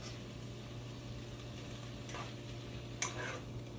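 Meat frying in a pan over medium-high heat for a Peruvian lentil stew, a steady soft sizzle with a few brief stirring scrapes and one sharp clink near the end.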